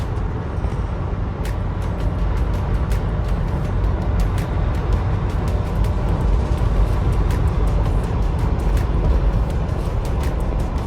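A 2025 Ford Bronco Outer Banks with a 2-inch lift and Nitto tires accelerating, heard from inside as a loud, steady low engine drone and road rumble with regular faint ticking throughout.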